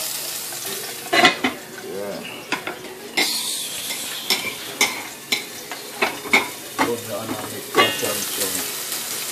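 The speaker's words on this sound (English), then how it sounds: "So now let's just mix up our onions, our scallions, and green peppers, and let's throw them in the pot." Onions, scallions and green peppers sizzle in a pot while a utensil stirs them, with repeated scraping clinks against the metal over steady frying.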